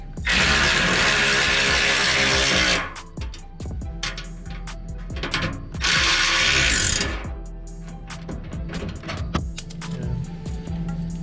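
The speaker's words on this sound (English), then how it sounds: "After that, you're going to go with a 1/2-inch socket and just torque them down." A ratchet with a 1/2-inch socket tightens bolts on Tyger Auto Blade side steps fitted to a 2009-2018 Ram 1500. Runs of sharp, close clicking strokes fall between two loud bursts of broad hissing noise, with no talking.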